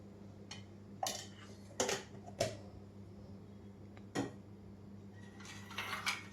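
Metal idli plates being greased with oil: scattered, sharp clinks and clatters close by over a low, steady background hum, with quieter handling noise between the knocks.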